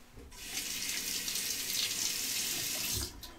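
A REX Sentry slant bar razor is rinsed under a running tap at moderate flow, a steady splashing gush that starts abruptly, holds for a few seconds, then cuts off.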